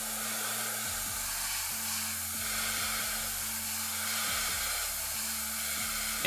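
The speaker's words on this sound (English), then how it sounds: "We're just blasting it with a little bit of air from far away." An airbrush blows a steady hiss of air from a distance to dry paint on a miniature power weapon, a continuous even stream with faint low hum underneath and no talk.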